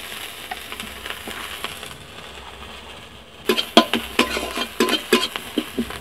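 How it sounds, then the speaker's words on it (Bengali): Onions in oil in a kadai give a soft, steady sizzle at first, then a spoon stirs and scrapes them around the pan in a run of close, rhythmic knocks and rustles. "প্রথমে আমি কড়াতে পেঁয়াজ দিয়ে দিচ্ছি। বন্ধুরা পেঁয়াজ তো দিয়ে দিয়েছি, এখন তার সাথে আমি একটু তেল দিয়ে দিচ্ছি"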